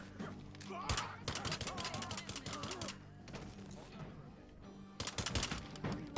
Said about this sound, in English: Gotta shoot them while they're down.